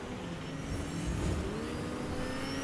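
A car engine drones steadily and fairly loud in a Fortnite match, holding a constant mid-pitched roar with a slight swell in the middle and no voices over it.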